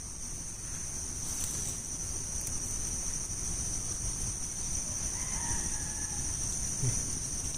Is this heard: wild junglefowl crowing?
yes